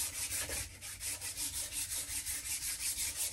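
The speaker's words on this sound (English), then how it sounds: "I'm trying to keep my sand cloth tight so it doesn't bind like it just did" Sand cloth rubbing back and forth on a Mercury outboard engine cylinder during a rebuild, a close, fast, even rhythm of rasping strokes, about six per second, with no voices.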